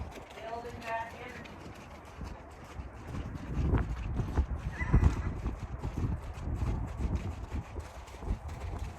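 A ridden horse walks forward under a rider, its hooves clip-clopping softly in an uneven rhythm, mixed with wind noise and occasional low voices nearby.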